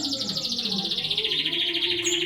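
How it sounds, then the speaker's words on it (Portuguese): Pet pedigree canaries kept alongside wild finches sing in a rapid, continuous trilling warble, close and bright, with a lower chirping bird also heard underneath throughout. "os pássaros aqui, eles não param de cantar não, pessoal"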